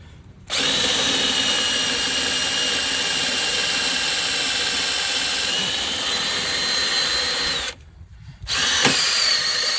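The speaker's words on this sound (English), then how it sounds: "I don't know how often you're drilling through metal." A power drill bores a bolt hole through a metal bumper on a 2006 Jeep TJ, a loud, steady high whine close by that runs for several seconds, cuts off, then starts again in a brief final burst.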